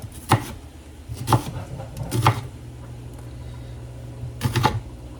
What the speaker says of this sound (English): we're going to start by cutting the onion in half